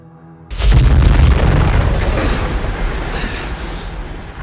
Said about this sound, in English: Cool guys walk away from explosions in slow motion.